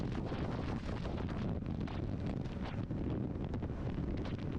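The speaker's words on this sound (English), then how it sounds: "Wind is like pushing my head left and right." Strong windstorm gusts buffet a motorcycle rider on the road, a loud, continuous roar of wind noise battering the microphone with no letup.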